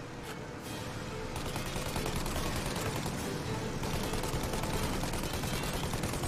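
Rapid cannon gunfire fires at a plane in Mafia: Definitive Edition, a dense, loud, continuous barrage of shots close up that rises after the first second and keeps going, with no talk over it.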